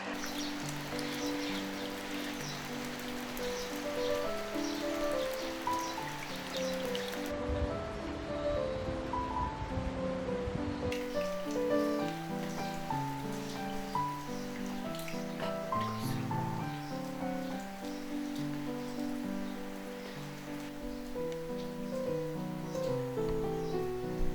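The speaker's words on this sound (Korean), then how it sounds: "함께 빗소리를 들으면서 감상해 보세요." Steady rain falls around a mountain temple in Anseong, Gyeonggi, with a continuous soft patter that fills the whole stretch at even loudness, joined by faint rustling.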